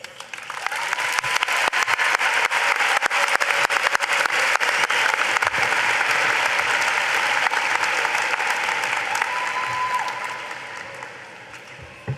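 A high school commencement audience breaks into loud, sustained applause, dense clapping from a large crowd that holds steady for about ten seconds before tapering off.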